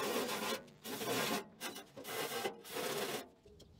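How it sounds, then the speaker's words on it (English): A wire wheel spun by a drill scrubs metal in the shop while drawers for a milling machine are built. Bursts of harsh, gritty rasping come close and loud, with short pauses between passes. "Then we give everything a clean up with a wire wheel on a drill."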